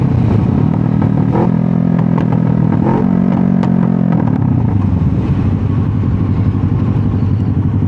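Motorcycle engine droning steadily while riding on a narrow road, a loud continuous rumble with shifting pitch as the rider eases off and rolls on, accompanied by wind buffeting throughout.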